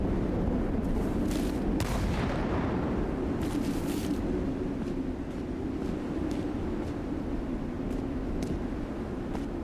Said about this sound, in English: my grenades did at least get rid of the explosives in here